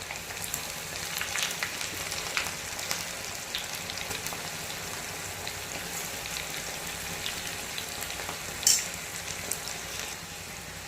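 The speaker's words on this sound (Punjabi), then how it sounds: "ਤੇਲ ਵੀ ਗਰਮ ਹੋ ਗਿਆ ਇਸ ਤਰ੍ਹਾਂ ਆਪਾਂ ਸਾਰਿਆਂ ਨੂੰ ਇਹਨਾਂ ਨੂੰ ਫਰਾਈ ਕਰ ਲੈਣਾ" Okra French-fry pakoras deep-fry in hot oil with a steady, dense sizzle and crackle, close and continuous, with a brief louder spatter near the end and no talk.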